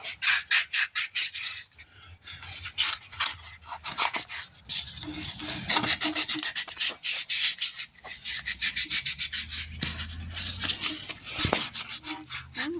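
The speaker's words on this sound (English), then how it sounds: "Sandpaper, and we'll clean this a little bit." Sandpaper rubs back and forth over cylinder head parts for a 302 engine in quick, rhythmic strokes. The bursts come in close, loud runs with a few short pauses between them.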